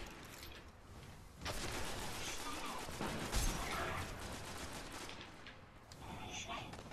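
Gunfire in the video game Destiny crackles in a dense, sustained barrage of rapid shots and clanking mechanical noise, loud and continuous throughout with a few heavier bursts and no talk.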